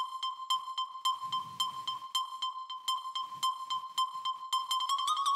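A dry, thin synth lead plays a quick repeating pattern of short plucky notes around one pitch, faint and without any added effects.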